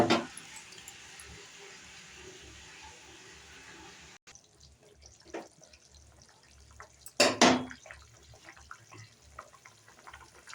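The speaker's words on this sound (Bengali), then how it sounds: "জল দিয়ে দিলাম এবার একটু ফুটুক" Water goes into a hilsa fish curry with aubergine in a home kitchen: a brief splash at the start, quiet drips and trickling, then a louder pour and splash near the end.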